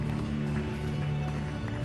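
Continuous crowd applause fills an AIMA awards ceremony, a dense and steady clapping texture at constant loudness over a low background hum.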